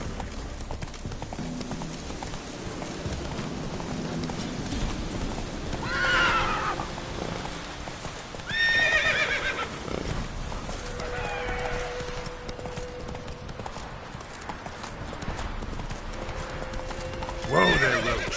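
Geralt's horse Roach in The Witcher 3, hooves galloping in a steady rolling clip-clop, close and loud, broken by several neighs and whinnies.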